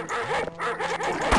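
Hostile reskinned hound dog in the video game They Hunger, sharp loud barks and yelps in quick succession over a short burst.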